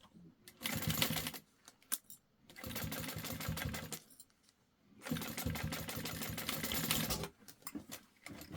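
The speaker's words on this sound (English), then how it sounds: "then we'll pull the lining and stitch all the way across." A sewing machine stitches across the lining of a fabric sling in several long, steady whirring bursts separated by short pauses, loud and close, with a bit of speech in the background.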